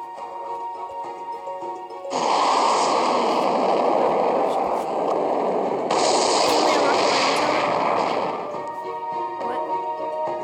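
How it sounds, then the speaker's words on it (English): A rocket spell launched in the mobile game Clash Royale, heard as two long, loud roaring blasts of whooshing, rumbling noise, each several seconds long, that rise abruptly over quieter game music. "Sending rocket for 3, 2, 1. Rocket sent."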